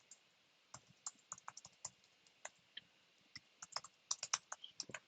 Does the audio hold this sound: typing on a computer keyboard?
yes